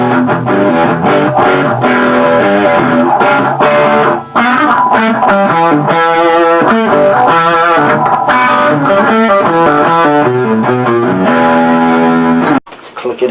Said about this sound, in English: this is about 6 o'clock gain on the crunch setting with the humbucker